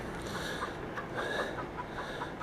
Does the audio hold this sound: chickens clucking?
yes